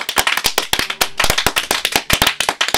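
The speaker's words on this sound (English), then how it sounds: "Everybody start clapping!" Clapping in the video game Banjo-Kazooie: a loud, fast, continuous burst of sharp hand claps with no voices.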